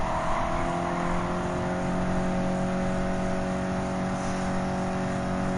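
Race cars in Gran Turismo 7 roar steadily during a lap, a sustained engine drone with a constant high whine and tonal hum, loud and unbroken throughout.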